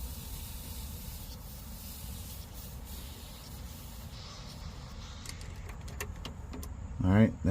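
Residual air hissing out of a disconnected air suspension line on a BMW X5 E70, a steady broadband hiss under low background noise, ending in a few clicks and a brief louder rattle near the end.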